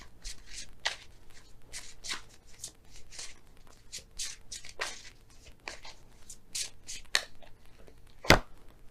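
Tarot cards being shuffled and drawn during a reading, a series of soft riffling and sliding bursts at an irregular pace, ending with one sharp snap, close and quiet.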